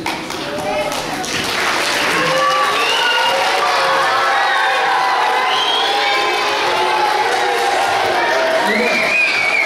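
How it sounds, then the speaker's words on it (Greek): An audience at a children's fairy-tale performance in Xanthi claps and cheers, a broad, lively roar of hands and raised young voices that swells and stays loud throughout, with shouts and whoops scattered over the steady clapping. "Σηκώνουν πολύ χειροκρότημα"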